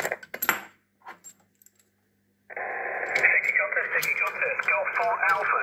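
A few clicks and knocks as an antenna is connected, then a homemade shortwave receiver with a MOSFET 9 MHz IF amplifier bursts into hissing static with a faint, warbling voice coming through the noise.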